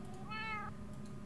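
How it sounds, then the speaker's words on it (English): A single cat meow from Minecraft, a short rising-falling cry of under half a second, set over a low steady game background hum. "Evil kitties."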